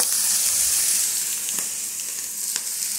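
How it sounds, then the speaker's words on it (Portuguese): Beans frying in a pan at home, a steady bright sizzle and hiss filling the space, close and loud, with a couple of faint clinks of a spoon against the pan. "E agora vou colocar o feijão."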